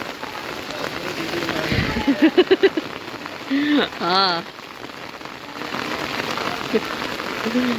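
Steady heavy rain patters and hisses on surfaces throughout, flooding a street, with a few brief voices and a short whistle-like sound over it.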